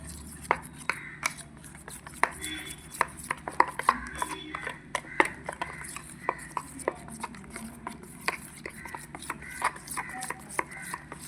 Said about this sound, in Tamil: நல்லா க்ரீமியாக வர்ற வரைக்கும் நல்லா மிக்ஸ் பண்ணி விட்டுக்கிட்டே இருக்கணும்.